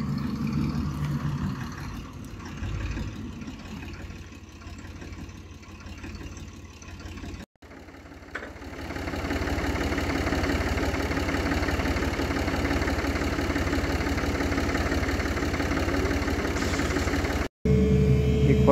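A tractor engine idles close by with a low, steady rumble and vibration. The sound cuts out briefly twice, and there is no speech.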